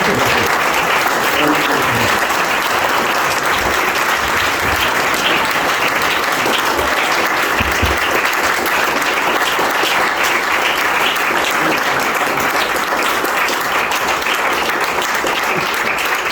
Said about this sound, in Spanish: voy a pedir un fuerte aplauso